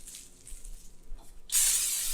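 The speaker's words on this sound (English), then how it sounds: "Another spray, and another spray." A spray bottle mists onto homemade popcorn with a short, quiet hiss first, then a louder, sustained spray burst that continues to the end.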